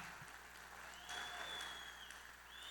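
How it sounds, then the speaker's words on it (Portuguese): An audience clapping at a church conference, a faint, steady wash of applause heard from a distance for a few seconds. "Vamos dar uma salva de palmas, né?"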